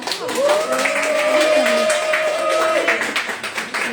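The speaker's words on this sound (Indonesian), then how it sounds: "Tepuk tangan yang meriah." Clapping from the audience at a book launch in Tebet, a lively patter of many hands under a sustained tonal voice or held note, fairly close, fading somewhat toward the end.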